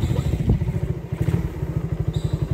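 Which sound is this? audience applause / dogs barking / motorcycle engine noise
motorcycle engine noise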